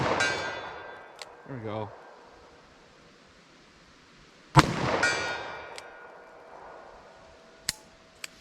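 Shots from a big-bore revolver firing .44 Special and .45 Colt Buffalo Bore loads in an outdoor ballistic test: one loud, sharp report rings out mid-clip, then faint distant clicks, and someone speaks briefly at the start.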